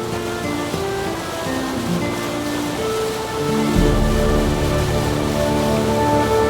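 Park fountains splash in Cerro San Bernardo Park with a steady, loud rush of falling water that swells slightly partway through. Faint music sits beneath, and no voices are heard.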